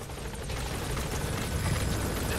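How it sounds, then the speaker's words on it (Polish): A helicopter called in the video game Metal Gear Solid V: The Phantom Pain drones with a steady, dense rotor roar that builds slightly as it arrives, with no voices. "Helikopter, ale chcę go wezwać,"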